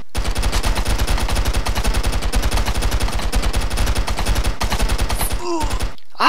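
AK-47 fire in the video game Stick Arena Dimensions rattles in a long rapid burst of loud, evenly spaced shots, cutting off near the end before a few short game sound effects.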